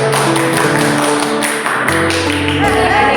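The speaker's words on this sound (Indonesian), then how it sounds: "Tepuk pramuka." Group rhythmic scout clap from a room of teachers, a dense steady patter of many hands at close range filling the whole moment with no voices on top.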